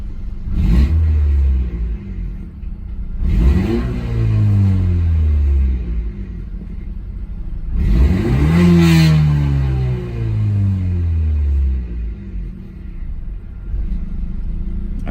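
A car engine fitted with a PRL intake coupler revs up sharply three times from idle, each rise followed by a falling wind-down, loud and close with a steady rumbling idle between the blips and no talk.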